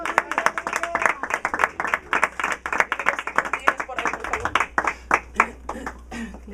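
A church congregation claps during a service with Pastor Roberto Lopez, producing rhythmic, fairly sparse clapping with distinct individual claps, moderately close and tapering off toward the end.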